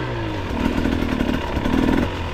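A two-stroke dirt bike rides a trail in Bath, Maine, its engine buzzing and rising in two revving surges over a rough, rattling drone, fairly close and continuous.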